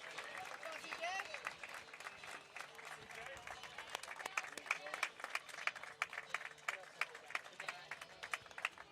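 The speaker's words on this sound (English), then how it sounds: "nice round of applause for CJ." A crowd at a high school sports area championship game applauds steadily for several seconds, a dense patter of clapping that swells slightly midway, with faint voices underneath.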